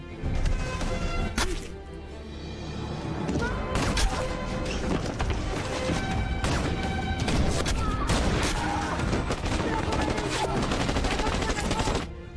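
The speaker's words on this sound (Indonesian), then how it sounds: "Dia menembak tentara Iran dengan membabi buta hingga menewaskan Ismail." Dense, continuous gunfire from the Iranian war film Tak Tirandaz, with rapid bursts of rifle and machine-gun shots and crashing impacts, loud and sustained throughout with no pauses.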